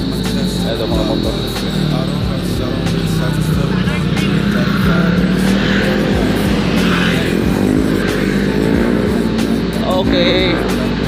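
Motorcycles pass along a road in a loud, continuous engine roar with rising and falling revs throughout. People talk over the traffic noise.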